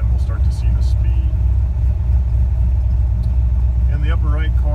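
A 600 hp engine with a Holley Sniper fuel injection idles in a driveway, a steady low rumble close by while a person talks over it.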